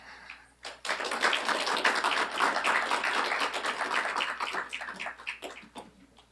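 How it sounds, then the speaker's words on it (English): A conference audience claps for a session moderator, a dense, steady burst of applause that swells after a brief quiet start and holds for several seconds before tapering slightly, with no talk over it. "Please give him a big applause."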